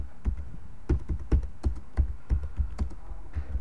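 Keys clatter on a computer keyboard in an uneven run of close, distinct taps, about a dozen strokes over a few seconds with short pauses between bursts, no voice over them.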